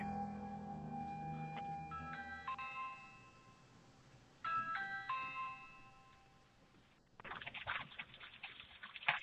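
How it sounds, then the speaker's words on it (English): A chiming electronic doorbell rings twice in quick succession, each a short melodic run of tones, followed by a burst of rustling noise. "ringing the doorbell repeatedly"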